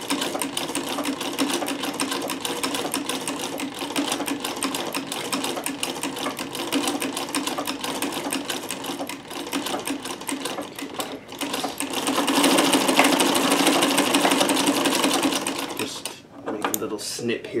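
A sewing machine fitted with a Davis vertical feed scallop plaiter attachment runs in a fast, steady mechanical chatter, rattling close and continuously for most of the stretch before stopping near the end.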